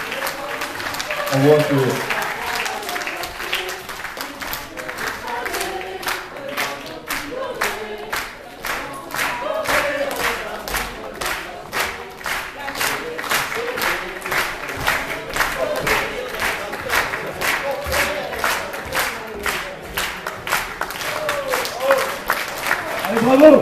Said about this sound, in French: Allez, on peut les applaudir bien fort. Allez, plus fort.